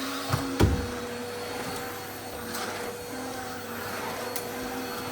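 Household vacuum cleaner running during bedroom cleaning, a steady mid-level motor drone with a faint whine, a couple of knocks near the start, no talking.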